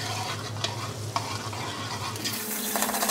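Three medium onions sizzling and being stirred in about 350 to 400 ml of heated sesame oil for Kabuli pilau, a dense close frying hiss with scraping stirs and no talking.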